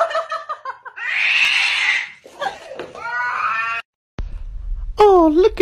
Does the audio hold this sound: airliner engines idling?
no